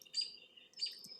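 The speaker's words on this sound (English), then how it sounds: "That chink, chink, chink is a robin" A robin's sharp chink calls in a summer outdoor setting, two short bright bursts about half a second apart, clear and fairly near against a quiet background.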